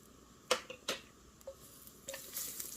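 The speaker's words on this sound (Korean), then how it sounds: "마늘 2스푼을 넣고 미리 조금 볶아주겠습니다" Garlic, two spoonfuls, hitting perilla oil in a pan, giving a few sharp sizzling bursts and stirring scrapes spaced through a quiet kitchen stretch, with no voices.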